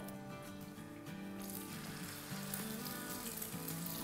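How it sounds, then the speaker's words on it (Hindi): Shami kababs frying in a pan over a medium-low flame, a steady soft sizzle and crackle running throughout with a faint background tone, no voices. "3-4 मिनट ईच साइड फ्राई करेंगे।"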